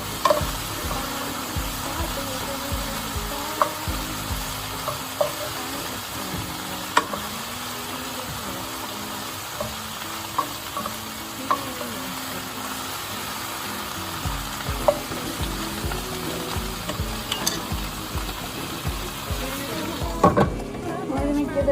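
Sautéed vegetables stirred in a hot pan: a continuous loud sizzle broken by the clinks and scrapes of a utensil against the pan, with occasional talk in the background.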